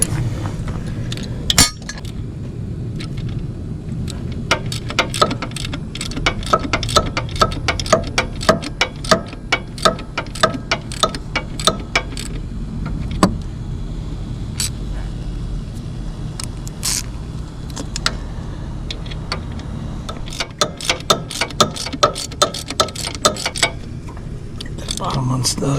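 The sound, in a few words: tightening the alternator bolts on a Kubota excavator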